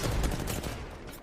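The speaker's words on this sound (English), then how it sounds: "The action-packed 3-man is taking some gunfire here." Gunfire in the battle royale shooter Apex Legends crackles in a quick burst of overlapping shots, loud and fairly close, then trails off within about a second.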